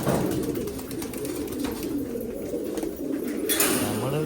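A pet pigeon that recovered from adenovirus but is blind in one eye and has a bent neck coos close by, a low, continuous throaty burble with faint rustling and no speech.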